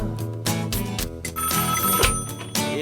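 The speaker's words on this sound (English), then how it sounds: "They'll even call you on the phone." A hotel room telephone rings in repeated loud electronic bursts, close and clear, with short gaps between rings and no talking.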